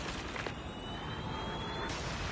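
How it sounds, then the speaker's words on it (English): A stealth chopper in Call of Duty Mobile sweeps overhead as a steady, broad engine-and-rotor roar, loud and continuous for the whole stretch with a high whine running through it. "Stealth chopper on standby. Stealth chopper inbound."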